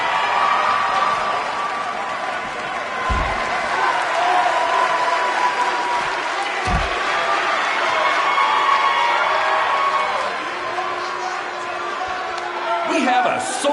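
A large, sold-out arena crowd in WWE 2K19 roars and applauds continuously, with a few sharp thuds and an announcer-like voice talking over the din.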